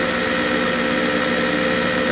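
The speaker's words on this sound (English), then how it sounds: "That is probably what you're going to want to have when you're doing some aggressive grinding." An FAV AV2 valve grinding machine running with a dense, steady whine and hiss, constant and fairly loud and close throughout, with no talking.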